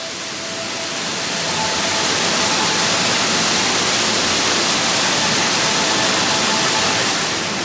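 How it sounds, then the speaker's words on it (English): The waterfall spray effect on the Valhalla water ride at Blackpool Pleasure Beach gives a loud, dense, unbroken rushing hiss that swells in and holds steady throughout, with no voices. "like the waterfall effect spraying on you"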